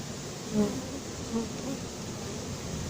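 A honeybee swarm being poured from a cardboard box into a hive, a dense steady buzzing hum of many bees that fills the whole stretch, close by with a couple of brief louder swells and no talk.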